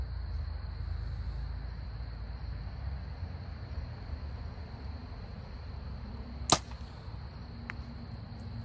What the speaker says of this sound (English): Sounds like we made impact on the target.